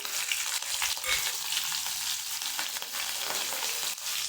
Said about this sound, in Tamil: கடுகு உளுந்து நல்லா பொரியுது